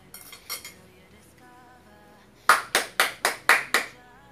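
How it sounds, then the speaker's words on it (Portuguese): Hands clap to applaud a finished Brazilian recipe of sun-dried beef in cream with pumpkin, six sharp evenly spaced claps close by after a few fainter taps and clinks. "Palmas para nossa receita de hoje."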